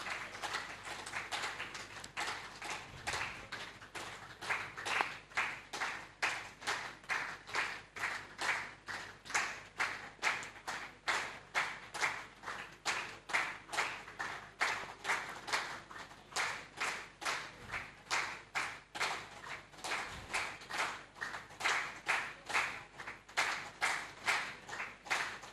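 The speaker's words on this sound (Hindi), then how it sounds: "आप सभी तालियां बजाते रहेंगे" An audience at a welcome ceremony claps in steady unison, a long run of rhythmic, evenly spaced beats that stays loud and regular throughout.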